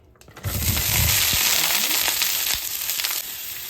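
Shrimp balls and mixed seafood balls frying in oil in a pan, a loud steady sizzle that starts abruptly and holds, with a few clinks of stirring and soft talk beneath.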